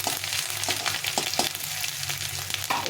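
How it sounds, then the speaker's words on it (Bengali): Crushed ginger frying lightly in a pan makes a quiet, steady sizzle, broken by repeated light clicks and scrapes of stirring. "এই আদাটা দিয়ে দেবো একটু হালকা একটু ভিজে নিতে হবে খুব ভাজা যাবে না"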